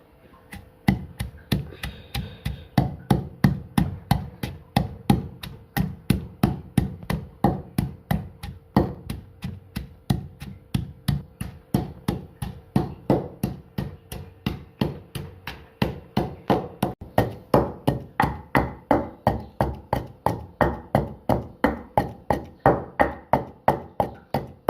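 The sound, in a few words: pounding green chilies, pomegranate seeds and salt in a mortar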